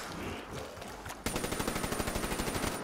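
Rapid automatic gunfire from a zombies boss fight in Black Ops 3, starting abruptly after a quieter stretch and then continuing as a steady, evenly spaced burst of close, loud shots.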